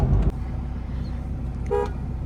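A car horn gives a single short toot on the road. It is heard over a low, steady engine and traffic rumble.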